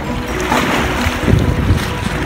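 Blustery wind buffets the microphone on Smathers Beach in Key West while surf washes steadily along the shore, a dense continuous roar with no voices.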